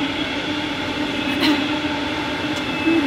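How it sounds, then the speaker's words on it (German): A train rolling past at an outdoor slam event, a loud continuous rumble with a sustained metallic squeal from the wheels and brief sharper screeches, steady from start to finish with no talk over it. "Jetzt warten wir mal kurz, bis der Zug vorbei."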